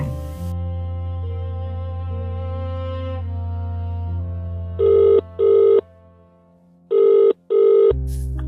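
A telephone rings in two pairs of loud electronic trills over a sustained, low musical drone in a Tamil short film scene.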